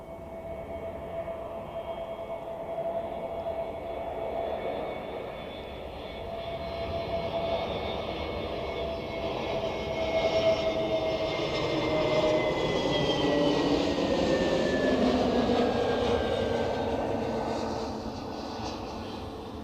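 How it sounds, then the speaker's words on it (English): A TAP Air Portugal Airbus A321neo from Lisbon touching down at Zurich, its engine whine and broad roar swelling as it nears and passes, with tones sliding downward, steady and unaccompanied by talk. "Touchdown, spoilers up, and welcome to Zurich, to those arriving from Lisbon"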